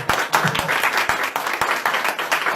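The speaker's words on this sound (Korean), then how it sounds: "크게 환영해서 박수 쳐주시면 감사하겠습니다" A church congregation claps to welcome a visitor during a Sunday service, a dense, steady round of applause from many hands filling the room.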